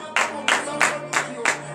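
A congregation at a morning prayer service claps in a quick run of about five sharp, evenly spaced bursts, close and moderately loud.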